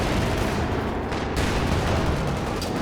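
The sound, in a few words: anti-tank gun fire in Company of Heroes 2 video game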